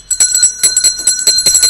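A bell rings rapidly and loudly, a fast series of metallic strikes with sustained bright overtones, close by and with no talk over it.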